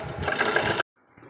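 A washing machine running its wash cycle as water loads and the drum turns slowly clockwise gives a steady mechanical whirring hum that stops abruptly, then faint low rumbling follows.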